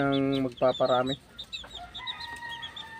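Chickens cluck and peep in a small backyard area, a loud harmonic call at first, then softer chirps and clucks scattered through the rest.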